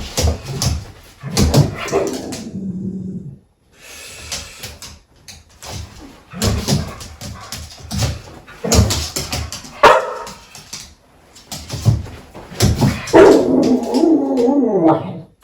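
Dogs whimper, whine and let out yips and short barks in close, loud bursts separated by brief pauses, sounding vocal and insistent throughout.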